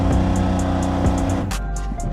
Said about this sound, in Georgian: დაიქოქა ეს ავტომობილი, დიდი ხანი აღარ გავაჩერებ